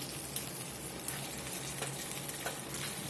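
Poblano peppers and garlic roast and sizzle under heat, a soft, steady crackle with scattered small pops, fairly quiet and close, with no talking.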